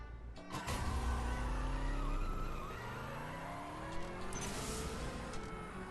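A race car engine in the CSR Racing 2 mobile game roars and revs up hard. Rising gear-shift tones climb in steps, with a brief tire-squeal quality. The sound is continuous, close and loud, with no talking over it.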